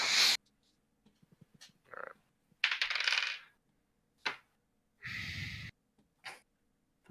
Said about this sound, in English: I rolled a 6 on the dice.